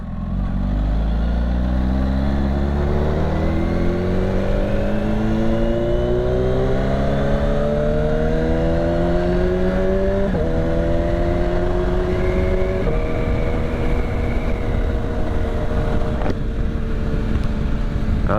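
A 2021 Kawasaki Ninja H2 SX SE+ with a flashed ECU rides slowly on a neighborhood road, its engine droning loud and close, pitch climbing through several smooth upshifts.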